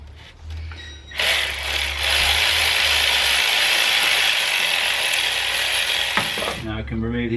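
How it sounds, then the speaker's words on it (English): Ratchet wrench loosening a 13mm nut on the starter motor of a BMW N52 engine, a loud sustained buzzing run of rapid clicks close up for several seconds, with faint handling noise before and after. "And now if we go ahead and remove that 13mm nut."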